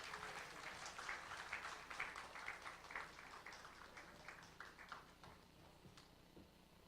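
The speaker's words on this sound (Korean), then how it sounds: "박수로 축하해 주세요." An audience applauds at a business venture forum: a fairly faint, dense patter of many hands that thins and fades over several seconds.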